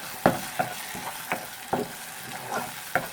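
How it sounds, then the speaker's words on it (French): Harissa and tomato sauce frying in a pan while being stirred, a soft steady sizzle with repeated scraping strokes of the spoon at a loose, uneven rhythm, close and fairly quiet. "C'est très important cette étape de faire revenir un peu la tomate à sec"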